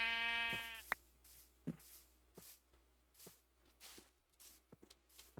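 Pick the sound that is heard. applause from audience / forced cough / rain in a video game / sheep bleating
sheep bleating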